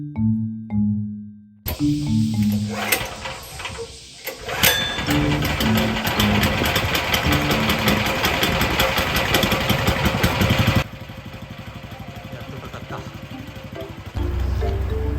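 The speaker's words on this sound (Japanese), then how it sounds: "今回何度もこのコンプレッサーのエンジンのかかりの悪さに苦しみました。" A small engine on a hard-starting air compressor catches after a brief silence and runs with a loud, steady mechanical clatter, then settles into a quieter, even idle for the last few seconds.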